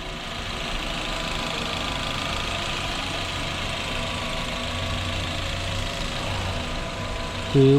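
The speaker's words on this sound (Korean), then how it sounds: "차량 상태는 엔진 상태는 되게 조용한 걸로 느껴집니다" A used Chevrolet Spark mini car's engine idles quietly and steadily with the hood open, a smooth continuous hum with no other sounds until a brief knock at the very end.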